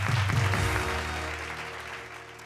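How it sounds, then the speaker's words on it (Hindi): Loud applause greets a contestant on a Bhojpuri TV game show, a dense wash of clapping that slowly tapers off while low musical tones sustain underneath. "जोरदार तालियां हैं खड़ा।"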